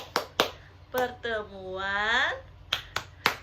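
A group clap chant during a family-empowerment session: a few sharp, crisp claps land in a rhythmic pattern, broken in the middle by a voice chanting, then more claps close by.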